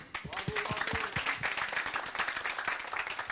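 An audience at a live arts event applauds the performing artists with a steady, crackling patter of many hands, moderately distant, while a voice speaks briefly at the start.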